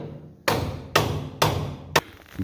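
Four sharp, heavy hammer strikes on metal while fabricating an ATV bulldozer blade land at an even pace, each a loud broadband impact with a short ringing decay, close by.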